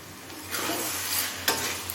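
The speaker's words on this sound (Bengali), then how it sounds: "এবারে গরম মশলার গুঁড়োটা মিশিয়ে নিলেই বাঁধাকপি রান্না করা কমপ্লিট" Cooked cabbage with garam masala powder being stirred in a hot pan, a soft steady sizzle with two brief scraping strokes of a spoon, close and quiet, no speech.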